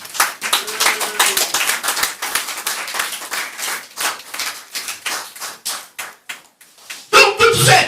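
A church congregation claps and cheers in praise of God, giving dense, loud rhythmic applause that swells and then thins out, with a burst of voices near the end.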